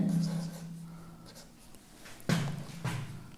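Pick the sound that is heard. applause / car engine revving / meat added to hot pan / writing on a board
writing on a board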